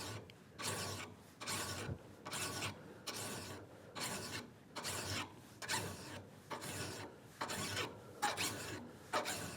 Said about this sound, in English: file it down until you've got what you need